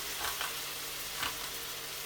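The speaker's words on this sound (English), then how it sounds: "as you can see that now frying away" Food frying in a pan for Tamil mango rice, a soft steady sizzle with a couple of brief louder crackles or stirs, heard close and alone.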